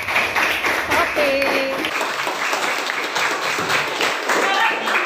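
A classroom of students claps for a classmate, a dense burst of mixed applause lasting several seconds, with a teacher's voice briefly over it.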